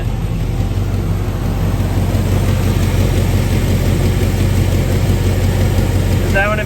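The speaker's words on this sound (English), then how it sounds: "So I'll turn my idle down just a little bit." A Chevrolet small-block 350 V8 with an automatic transmission idles steadily near 800 rpm as its idle speed is turned down, a loud, continuous low rumble throughout with no talking.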